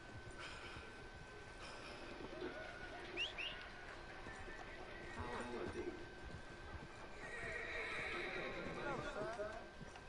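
A horse in the Red Dead Redemption 2 video game neighs and whinnies with clip-clopping hooves, moderately loud against a rumbling game background, while someone talks over it.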